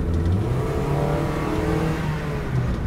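A Toyota Yaris-based Mercedes SLS replica's engine revs hard and loud, climbing in pitch as it accelerates, with no talking.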